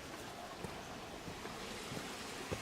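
Gentle creek water flowing along a canyon trail at Blackheath, a soft, steady rushing wash with a few faint knocks, low in level and with no voices.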